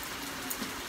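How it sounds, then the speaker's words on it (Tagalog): Rain falling steadily on the first of May, a soft continuous patter with no voices, even and fairly faint throughout. "May 1st, tapos umulan."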